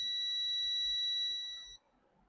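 A multimeter in continuity test mode beeps while its probes touch a 2.5 ohm component: one steady, loud electronic tone with bright harmonics that holds for under two seconds and then cuts off into quiet.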